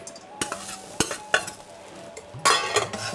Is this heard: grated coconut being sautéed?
yes